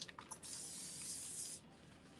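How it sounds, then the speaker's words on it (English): Spray bottle misting the back of decoupage paper: a close, steady hiss of fine spray lasting about a second, with a few short bursts just before it. "I always spray the back of my paper"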